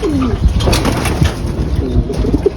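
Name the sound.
racing pigeon cooing after entering the loft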